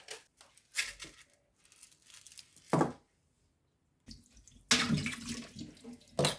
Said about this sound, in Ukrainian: Мию огірки